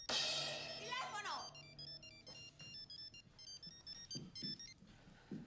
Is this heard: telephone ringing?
yes